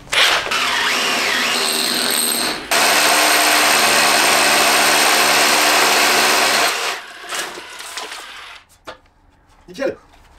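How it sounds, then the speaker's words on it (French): A power drill bores into a workshop wall during renovation, running loud and steady for about seven seconds with a short break near the start, then stopping and leaving quieter handling noises. "Bon allez, il est temps de percer le mur."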